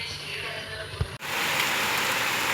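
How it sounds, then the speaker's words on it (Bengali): Rain falls in a steady, close hiss that briefly drops out and then returns louder and fuller. "বৃষ্টি অ্যাটলিস্ট হচ্ছে"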